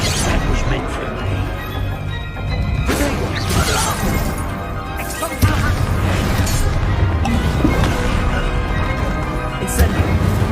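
Bombarda spell blasts in Hogwarts Legacy go off as repeated booming crashes amid a dense, loud mix of game combat noise and music, with voices shouting over it.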